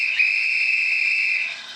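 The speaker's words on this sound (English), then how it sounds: "when the locomotive is stationary, it will play a guard whistle sound." Guard whistle from a Locoman Sounds decoder in a Thompson A2/2 or A2/3 model locomotive: one steady, shrill blast held for about a second and a half before it fades, heard alone.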